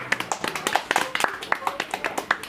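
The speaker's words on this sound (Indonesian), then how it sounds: "Oke, tepuk tangan dulu" A small studio group claps at the opening of an Indonesian humanities talk show, scattered uneven hand claps with a speaking voice running through.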